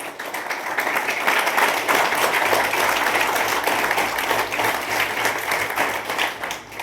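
A large audience applauds steadily, a dense, even roar of many hands clapping at once that holds for several seconds without pause.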